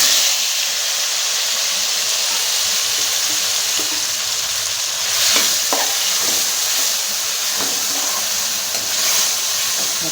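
Tomato pieces fry in a pan where green chillies were roasted, giving a bright steady sizzle with occasional scraping stirs and bursts of spattering, close and loud.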